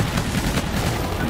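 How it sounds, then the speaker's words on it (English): SMG gunfire in Call of Duty Infinite Warfare, a dense, loud burst of rapid shots blurring into a continuous rattle over game noise. "The SMG that I'm using is really nice"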